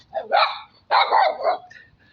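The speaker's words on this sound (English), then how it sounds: "Angry little dog." An angry little dog gives two sharp, close barks in quick succession, each a short harsh burst separated by a brief pause.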